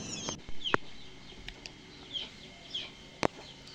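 Chickens on a farm give several soft clucks and short calls at irregular moments, fairly faint and nearby, with a couple of sharp knocks in a quiet barnyard and no talking.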